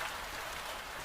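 Steady rain falls in an even, hissing patter on surfaces, dense and unbroken throughout with no voices or other sounds over it.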